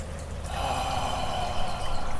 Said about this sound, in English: complete yogic breath.